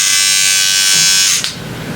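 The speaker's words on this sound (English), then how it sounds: "I have an electric toothbrush like this." A handheld electric toothbrush runs with a loud, steady high-pitched buzz for over a second, then cuts off abruptly, leaving quiet room noise.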